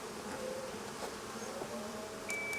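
Honeybees at a hive entrance bringing in pollen and nectar, a steady close buzzing drone of many wings with a few sharper passes near the end, no talking.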